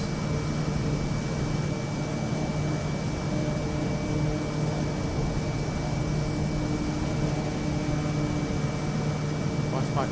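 Steady airplane engine drone from a flight simulator game, a continuous even hum with a constant tonal whine, unchanging across the whole stretch and fairly loud.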